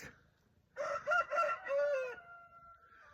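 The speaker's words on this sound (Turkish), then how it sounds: "Horozlar ötmeye başladı." At dawn, a rooster crows once, loud and nearby, with a wavering, drawn-out call trailing off into quiet.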